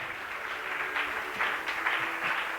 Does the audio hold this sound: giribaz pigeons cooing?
no